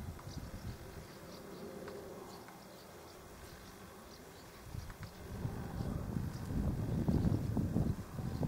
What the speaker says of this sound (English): the bumblebees are pollinators as well as the honeybees